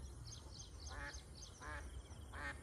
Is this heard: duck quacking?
yes